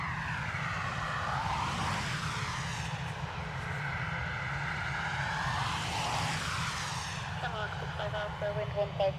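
An Aer Lingus airliner bound for Frankfurt drones at Dublin Airport with a loud, steady engine roar that rises and falls slowly as it moves, and a faint radio voice comes in near the end.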